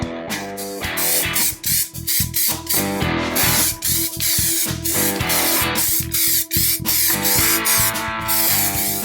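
Stone chip coating sprayed onto the sill of a 1969 Triumph GT6 Mk2 under restoration: a loud, close, continuous aerosol hiss broken by brief stutters and pauses as the nozzle is pressed again and again.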